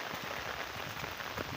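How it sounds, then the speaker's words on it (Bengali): Steady rain falling and pattering on surfaces outdoors, a dense, continuous hiss with scattered drops, constant and fairly close, with no voices. "প্রতিদিন বৃষ্টি"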